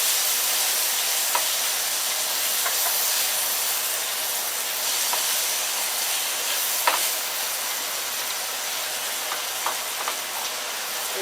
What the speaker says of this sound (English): We just want to saute this for a few minutes because you want the vegetables to be cooked